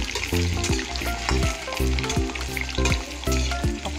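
Potato pieces fry with pork in a pan while being stirred, a loud, close sizzle with spatula scrapes, heard over rhythmic music with a repeating beat.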